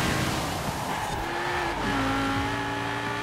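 A racing car in Forza Horizon 4 brakes late, loud steady engine roar with rising tire squeal tones as it skids through the corner, no talking over it.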